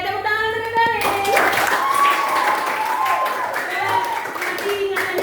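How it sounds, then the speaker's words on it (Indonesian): A classroom of eighth-grade pupils clapping for a classmate, a brisk burst of many small hands that starts after a moment, with children's voices chattering over the clapping. "tepuk tangan untuk Evelyn"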